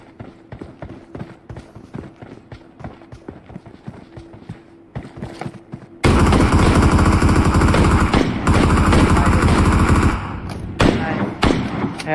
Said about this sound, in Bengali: মার বাড়িতে করে ভিতরে যায় না, উপর থেকে ফায়ার দিছে।